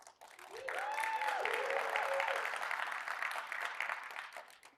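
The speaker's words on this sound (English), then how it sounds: "Thank you for the applause." An audience claps in a conference hall after a keynote on customer experience, a broad steady wash of many hands that swells quickly, holds for a few seconds, then tapers away, with a voice faintly over it at the start.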